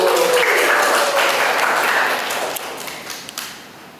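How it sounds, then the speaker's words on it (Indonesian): A short burst of applause from a small group at a university lecturer certification presentation, clapping steadily for about two seconds before thinning out into a few scattered claps. "Tepuk tangan dulu dong buat aku."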